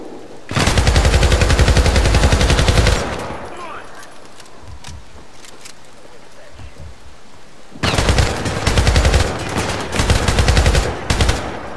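Rapid automatic gunfire in a Syndicate (2012) shooter game, loud and close in two long sustained bursts separated by a quieter stretch.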